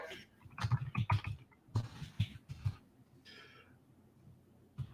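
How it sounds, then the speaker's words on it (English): Computer keyboard typing heard close, irregular bursts of clicky keystrokes with pauses between, fairly quiet against a hushed room. "while I'm typing"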